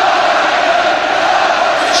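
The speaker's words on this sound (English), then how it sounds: "Come on, England, the crowd is shouting, almost in desperation." A dense, roaring football crowd at an England versus Austria World Cup qualifier chants and shouts continuously, a loud, uniform wall of voices with no breaks.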